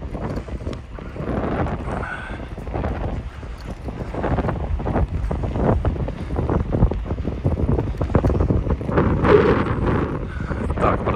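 Wind blows hard and steady against the microphone on a seaside walk in Adler, heading into the wind, a loud continuous buffeting roar with gusty swells and no talk.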